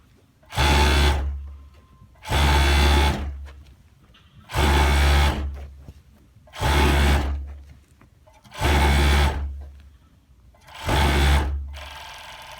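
An overlock serger stitches fabric edges for a seat cover in six loud, close bursts of fast, even motor whirring, each lasting about a second with short pauses between, and no one speaking.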